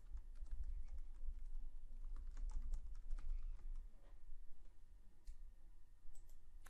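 Light, steady typing on a computer keyboard as a topic title is entered, soft clicks scattered over a low background rumble.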